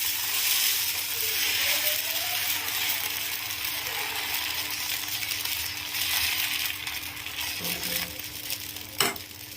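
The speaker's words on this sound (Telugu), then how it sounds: "వేడెక్కిన తర్వాత దోసపిండి వేసుకొని దోసని వేసుకోవాలి." Dosa batter sizzling on a hot pan, a steady, close frying hiss throughout with a brief scraping clack near the end.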